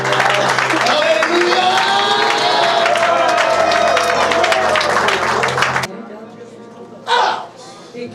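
A church congregation in Roubaix claps and cheers loudly for about six seconds as a dense, sustained crowd roar with voices in it, then it cuts off sharply, leaving quieter speech.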